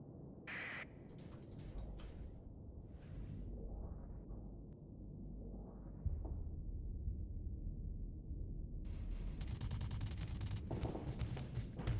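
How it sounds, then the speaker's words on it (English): Devastator cannon from the space combat game Starsector firing in a dense barrage of booming shots and bursts, a continuous loud roll of gunfire with heavier blasts toward the end. "Show me some Devastator cannon action."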